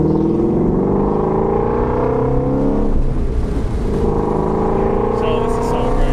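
Shelby GT350 V8 engine heard from inside the cabin at the passenger seat, a loud steady rumble with rising pitch as it accelerates, dipping briefly midway before pulling again.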